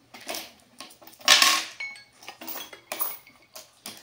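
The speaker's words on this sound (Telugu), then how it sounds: "ఆ కాయిన్స్ ప్లేట్లో వేయండి, వేసి కౌంట్ చేయండి" Metal coins clatter and clink onto a plate in several quick bursts over a few seconds, with a louder jangling pile-up near the middle, close and distinct with no talking.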